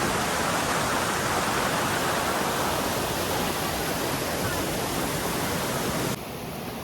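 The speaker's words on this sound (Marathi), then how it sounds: "फायनली आम्ही पोहोचलेलो आहोत मिल्की बार धबधब्याजवळ" Milky Bar waterfall on a trek, a steady, loud roar of falling water filling the whole clip without a break, dropping slightly in level just before the end.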